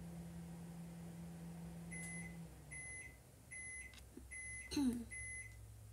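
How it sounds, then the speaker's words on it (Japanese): A microwave oven hums quietly indoors, then sounds a series of about five short, evenly spaced electronic beeps close by, with a faint clunk partway through. "電子レンジ"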